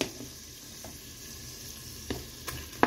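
Beef pieces frying in a Cookeo multicooker, a low steady sizzle broken by a few sharp clicks and scrapes of stirring toward the end, fairly quiet and with no talking.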